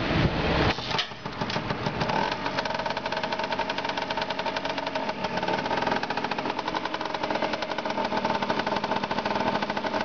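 A Honda CRM 250R motorcycle engine fires up and settles into a steady, close idle, its rapid chugging putter continuing evenly throughout.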